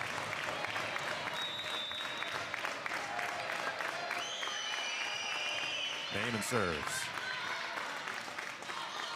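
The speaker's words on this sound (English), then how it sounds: "And here comes the crowd." Crowd at a high-school regional final volleyball match applauds and cheers steadily in a large gym, a dense roar of clapping throughout with a commentator talking over it and a brief whistle near the end.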